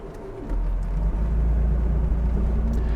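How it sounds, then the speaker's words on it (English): A 1956 Bentley S1 Continental fastback with its straight-six engine on the road, a smooth steady low drone that swells as it picks up speed, heard from inside the car. "This is considered one of Rolls-Royce and Bentley's best motors. The straight six, powerful, smooth."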